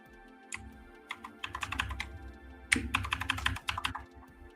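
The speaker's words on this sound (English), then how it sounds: "I don't know what the heck is going on with my keyboard." Computer keyboard typing in bursts of quick clicking keystrokes, fairly close, with a short pause before a denser run of taps, set at a desk during a live trading session.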